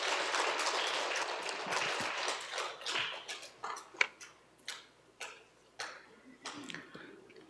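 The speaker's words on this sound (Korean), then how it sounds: "박수로 신부님 모시겠습니다." A church retreat audience claps to welcome a Dominican priest, dense applause at first that thins into a few scattered, separate claps.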